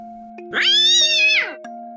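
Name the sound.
cat meowing while being grabbed by the neck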